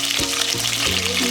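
Curry leaves and fenugreek seeds hitting hot oil give a loud, dense crackling sizzle, with a few low bumps of the pan beneath the steady hiss.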